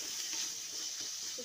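Spices with red chilli powder and green chillies sizzle and fry in a pan while making corn chaat, a steady, faint, continuous hiss with no talk.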